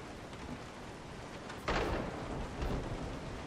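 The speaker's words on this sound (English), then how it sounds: "That lightning made me jump." A rainy thunderstorm in Resident Evil 7: rain hisses steadily, then a loud crack of thunder breaks in about halfway and rolls on into a lingering rumble beneath the downpour.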